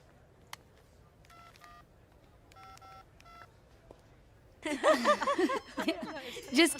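A telephone keypad is dialed in a few quick bursts of beeping tones, fairly soft, followed by louder voices talking and chuckling.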